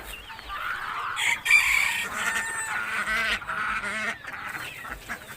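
Chickens cluck steadily and geese honk nearby, with a rooster crowing partway through; a busy farmyard chorus with no talking.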